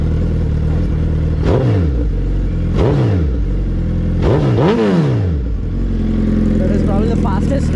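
A Suzuki Hayabusa GSX-R 1300 sportbike idles loudly up close, its engine punctuated by several sharp throttle blips that rise and fall quickly, two of them in quick succession.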